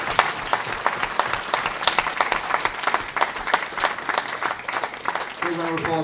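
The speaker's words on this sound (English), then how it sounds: "Can we have a round of applause for our board member who represents the Dale Supporters Trust" Applause from the audience at a football club fans' forum welcoming a board member, scattered clapping of moderate loudness with a voice speaking over it near the end.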